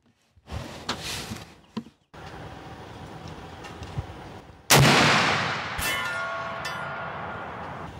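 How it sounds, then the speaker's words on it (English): A single 45-70 rifle shot fired at a target 300 yards away outdoors, a loud sharp blast with a long rolling echo trailing off, preceded by faint handling sounds. "And we'll take a shot and see if we're on target."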